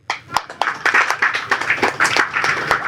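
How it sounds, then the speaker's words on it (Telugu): Audience at a Telugu film press meet for Alalu Leni Samudram clapping after a teaser screening, a brisk burst of close, sharp hand claps that gives way to scattered claps and some faint talk. "ఒకసారి అందరు క్లాప్స్ కొట్టాలండి."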